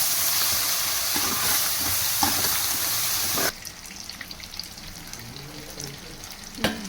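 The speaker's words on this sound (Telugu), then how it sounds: "ఇక పేస్ట్ ఇప్పుడు వేసుకున్నాం. ఇప్పుడు బాగా కలుపుకోవాలి." A paste of onion, garlic, cumin, poppy seed and tomato fries in a pan while being stirred, giving a loud, steady close sizzle that drops to a quieter crackle halfway through, with occasional scraping of the spoon.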